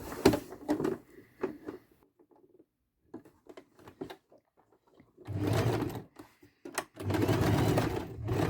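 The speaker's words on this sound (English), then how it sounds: "we're going to do the row of straight stitching, small stitches, just catching the edge there" Sewing machine with a fringe foot running a row of small straight stitches, short close bursts of quick rhythmic whirring and clatter separated by quiet pauses and light handling sounds.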